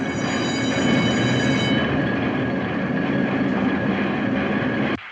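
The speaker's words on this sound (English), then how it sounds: "That noise, what's that racket? That's the press, baby. The press." A newspaper printing press runs with a steady, dense mechanical roar and rhythmic clatter, loud and continuous for about five seconds before cutting off abruptly near the end.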